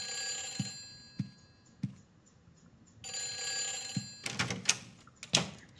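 A telephone in the video game Silent Hill 4 rings in two long shrill electronic bursts, with dull thuds between them and louder clattering hits near the end.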